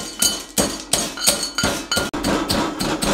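Green apple toffees are pounded in a metal mortar and pestle with a steady series of sharp, ringing thuds, about one every third of a second, close and fairly loud.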